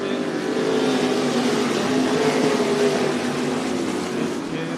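Dirt track race cars roar around the Cottage Grove Speedway oval in Oregon, a loud sustained engine drone rising and falling as the pack passes under a race announcer's voice.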